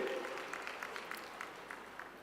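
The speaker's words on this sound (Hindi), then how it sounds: "जोरदार तालियां बजाएं माननीय सिंधिया जी के लिए" Audience applause for a speaker at an airport inauguration ceremony, faint and distant, a soft continuous patter of clapping hands throughout.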